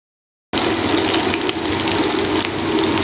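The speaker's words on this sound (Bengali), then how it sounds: "পেঁয়াজটাকে লাল লাল করে ভাজবো।" Onions sizzle steadily in hot oil with whole garam masala spices in a pan, a loud, dense, continuous frying hiss that starts abruptly after a brief silence.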